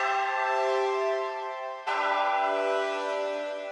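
A DX7 synth patch called Rising Sun plays in Analog Lab 4 without the arpeggiator, a bright, sustained bell-like chord ringing on its own, struck again midway and decaying slowly.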